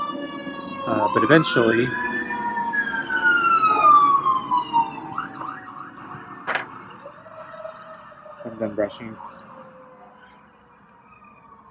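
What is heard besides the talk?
emergency vehicle siren passing outside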